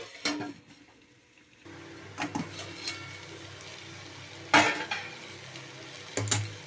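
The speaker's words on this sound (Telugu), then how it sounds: "ఇప్పుడు కోసేపు మగ్గిన దాకా మూత ఎట్టేయాలి" Steel cooking pot handled at the stove while a brinjal and fenugreek curry cooks: sharp metallic clanks and clinks of a lid and utensils, close, over a low steady background hum.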